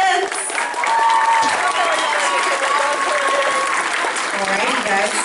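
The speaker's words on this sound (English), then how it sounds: "please give a round of applause to all of our skit contestants" A convention audience claps for skit contestants, steady dense applause from a large crowd that holds at a loud level for the whole stretch, with cheers and voices mixed in.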